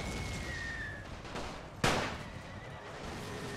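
Battle sounds from The Great War: Total War WW1 mod game: a distant horse whinny, scattered faint gunfire and one sharp, louder shot, all over a constant battlefield rumble with no speech.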